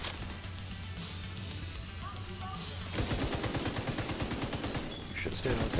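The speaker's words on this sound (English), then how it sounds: "let the turret do its thing" An automated turret firing in the shooter video game The Division 2: a steady low rattle at first, then fast, loud bursts of rapid machine-gun shots from about three seconds on, with a voice faintly underneath.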